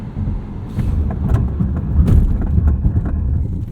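A 2019 Volvo S60 T6 R-Design rumbles loudly along a road with steady tire and engine noise as it brakes hard from 60 mph, a few sharp thumps breaking through the continuous roar.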